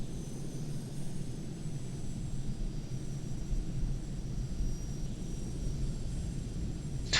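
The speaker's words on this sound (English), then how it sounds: "Let's go for the takeoff." A Eurofighter Typhoon jet takes off in the Falcon 4 Allied Force flight simulator game, with a steady, loud engine roar that holds at one level for the whole stretch, and no talk.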